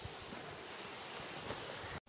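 Water rushes steadily at a waterfall near Dammi, in Dhading outside Kathmandu, a continuous broad roar with faint wind buffeting and no voices.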